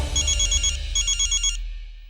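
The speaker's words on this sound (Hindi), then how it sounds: "प्रिया जी फोन कर रही हैं।" A phone ringtone for an incoming call chimes in two quick repeating bursts, fairly loud and close, then stops, with no one talking over it.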